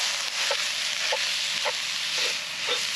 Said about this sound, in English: let's get this beef browned up.